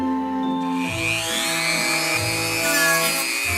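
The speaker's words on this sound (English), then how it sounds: "I'm going to smoothen up this line here with my Dremel tool." A Dremel rotary tool smooths a cut leather edge with a steady, high-pitched whine and shifting tones as it bears into the material, loud and close throughout, with no talk.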